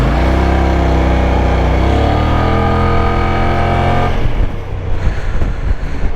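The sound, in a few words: Kymco AK550 maxi scooter riding in city traffic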